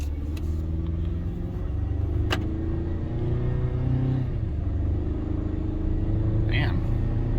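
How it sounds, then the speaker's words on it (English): A Ford Ranger pickup towing 9000 lbs pulls away, its engine giving a steady, close, loud low rumble that holds throughout with little change in pitch. "Okay, we're about to pull out here."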